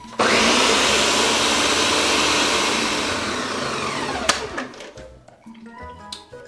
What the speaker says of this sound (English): Blender is done.